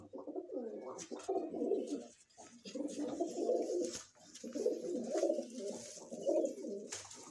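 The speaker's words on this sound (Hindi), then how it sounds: "प्योर मद्रासी कबूतर है ये," A pure Madrasi pigeon coos in repeated soft, throaty phrases close by, with brief pauses between bursts, heard alone without talk.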